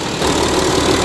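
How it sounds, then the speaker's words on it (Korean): An Audi A6 45 TDI V6 diesel engine idles steadily, a continuous close-up rumble with a faint knocking texture and no voices over it. "45 TDI V6 엔진입니다."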